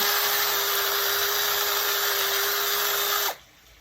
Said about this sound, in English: I'm just going to rerun the drill bit through